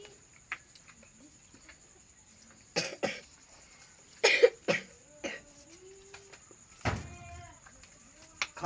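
A few scattered coughs and throat sounds, close by, separated by quiet pauses with a faint steady tone in the background.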